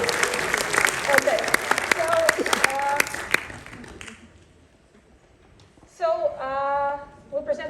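An audience at a club talk breaks into loud, dense applause with scattered cheers and a voice speaking over it. The clapping fades out after about four seconds, followed by a short hush and then a person talking.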